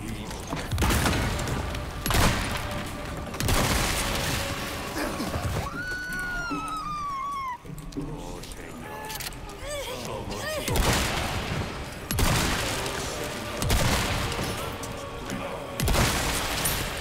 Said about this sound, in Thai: ระเบิดเยอะว่ะ